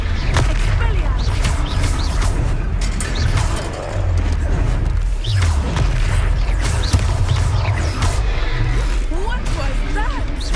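Spells cast in a Hogwarts Legacy PS5 battle ring out as booming, whooshing magical blasts over constant dense game noise and music, with players shouting and talking throughout.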